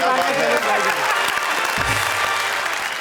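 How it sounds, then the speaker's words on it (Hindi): Loud, sustained applause fills a Hindi kavi sammelan poetry gathering, a dense crowd clapping steadily throughout with a low murmur of voices beneath. "जोरदार तालियां"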